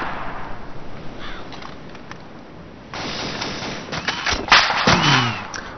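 Sniper rifle fire in ARMA 2, a sharp report near the three-second mark followed by a louder cluster of cracks and thuds around four and a half seconds, set against steady outdoor ambience.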